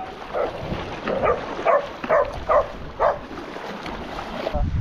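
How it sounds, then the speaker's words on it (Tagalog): A dog barks in repeated short yaps, about five in a row at a moderate distance, heard over a steady outdoor wash of wind and ambience on a mountain hiking trail in Panay. "Ang ligalig ng aso eh."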